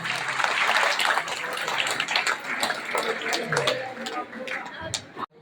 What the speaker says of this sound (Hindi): एक बार जोरदार तालियों से इनका मंच पर स्वागत करें